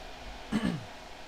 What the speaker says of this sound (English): you need to clear your throat now